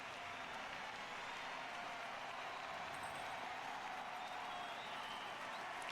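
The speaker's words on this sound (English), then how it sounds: "My left ear definitely enjoying the crowd cheering nonstop." Steady crowd cheering and applause from the Forza Motorsport racing game, a dense continuous wash of clapping and cheers holding at an even level throughout.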